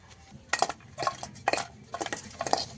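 Cleaned fish being mixed by hand with salt and turmeric in a dish, a series of five or six short, close squelching and clinking handling sounds in an uneven rhythm.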